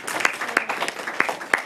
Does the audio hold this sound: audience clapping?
yes